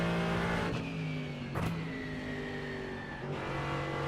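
A GT3 race car engine in the iRacing simulator revs hard. Its steady tone climbs, then drops sharply at each gear change, heard up close and alone.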